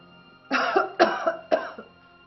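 Three distinct coughs in quick succession, evenly spaced about half a second apart, close and fairly loud against a quiet background.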